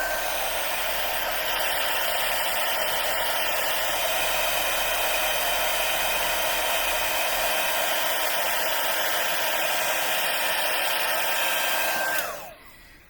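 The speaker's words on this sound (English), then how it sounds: "I'm going to hit it again with the heat tool" A heat embossing tool blows hot air in a steady, loud, hair-dryer-like whoosh that holds for about twelve seconds and then cuts off abruptly near the end.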